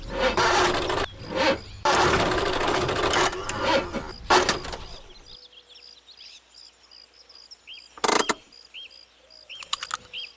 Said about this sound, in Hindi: इंजन में से कुछ आवाज आ रही है।